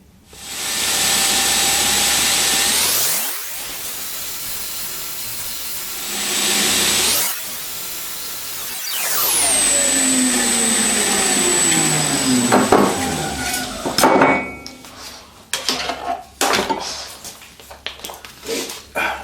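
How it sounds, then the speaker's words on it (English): A bushcraft knife clamped in a jig is ground on a powered grinder: a loud, steady motor whine spins up and winds down several times, with rough scraping and clattering bursts toward the end. "clamp the knife to the jig, and we'll do some grinding"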